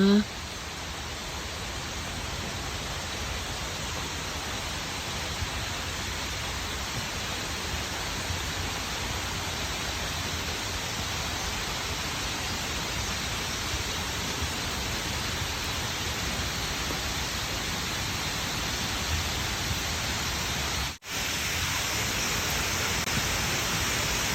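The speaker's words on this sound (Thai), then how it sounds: "ได้ยินเสียงน้ำตกแล้วใช่ไหมคะ" Whatcom Falls in Washington, a waterfall fed by mountain water, gives a steady, dense rush of falling water at constant loudness, close by and filling the whole scene.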